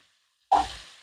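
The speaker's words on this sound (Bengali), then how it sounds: "এইভাবে উল্টে পাল্টে একটু ভেজে নেব।" Shrimp are turned in hot oil, and after a silent moment a single loud, close sizzle bursts out and quickly fades to a softer crackle.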